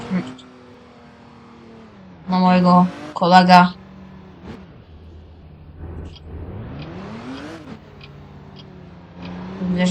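A car in the Roblox game drives with a low engine drone that rises and falls in pitch as it speeds up, while a voice talks over it in short bursts.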